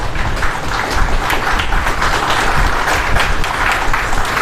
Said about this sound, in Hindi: ये सब तालियां आप ऋषभ देव के लिए बजा रहे हैं